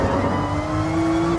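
A race car engine in the Gran Turismo Sport racing game drones at high revs, holding one steady pitch with small shifts through gear changes, loud and close with no talking.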